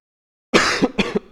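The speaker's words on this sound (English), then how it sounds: "I don't know why my cough's so annoying today." A person coughs after a moment of silence, one harsh cough followed by two or three shorter, rough bursts close to the microphone.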